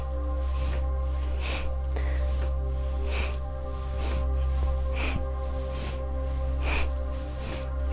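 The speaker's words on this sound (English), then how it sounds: "to breathe this audibly, to be this noticeable in your breath" A person does fast, audible rhythmic breaths during a Kundalini yoga kriya, sharp sniffs at a steady pace of about one every second and a half over a constant low hum.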